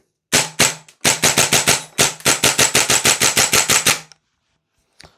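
A Vorsk VMP-2 gas blowback airsoft rifle fires semi-auto, a rapid string of about twenty sharp, loud, evenly spaced shots close by, followed by silence and one faint click.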